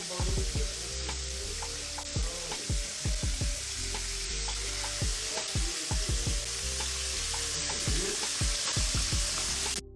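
Chicken frying in a pan sizzles and crackles steadily with dense popping spatter throughout, loud and close, with no speech over it.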